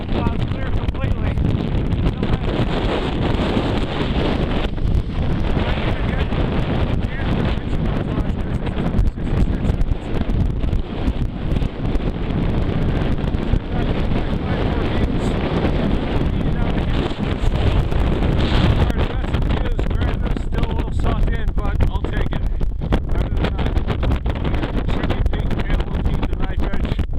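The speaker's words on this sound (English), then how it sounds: "check out that wind" Strong wind roars across the mountain summit of Hamlin Peak in Maine, hitting the microphone as a loud, continuous buffeting that hardly lets up.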